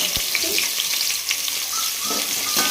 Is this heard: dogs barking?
no